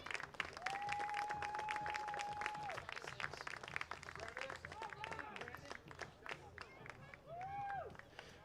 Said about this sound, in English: he'll get a nice round of applause for a job well done